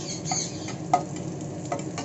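Whole cumin seeds and green chillies sizzle in mustard oil in a kadai, giving a steady close hiss with a few sharper spits and crackles, and no voices.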